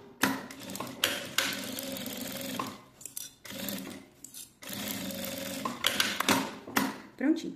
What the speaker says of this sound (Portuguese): E agora eu passo a costura com um pé de máquina ou rente aos dentinhos do zíper.